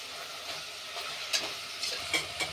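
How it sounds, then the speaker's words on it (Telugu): Chicken fries with ginger-garlic paste in a pan for a chicken haleem, giving a soft continuous sizzle broken by a few brief scraping stirs near the end. "ఇంకా ఇదే చికెన్ 1 tablespoon అల్లం వెల్లుల్లి పేస్ట్ వేసుకొని ఫ్రై చేయాలి."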